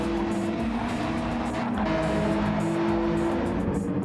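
Race cars roar around Monza in the Flatout video game, a loud, sustained high engine whine with a shifting pitch as cars pass close by.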